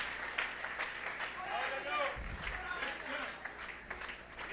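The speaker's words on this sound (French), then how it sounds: "Applaudissez pour les sœurs" A church congregation applauds for the women who have just prayed, a moderate crowd clapping throughout with voices talking and calling out over it and a low thump partway through.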